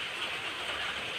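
Rain falls in a steady, fairly quiet hiss, with no voices heard.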